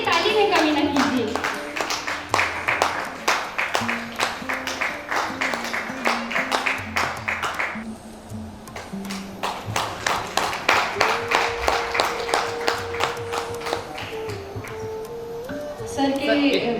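An audience at a youth programme event claps in a steady, rhythmic beat that keeps going with only a short pause. A voice or melody carries along over the clapping.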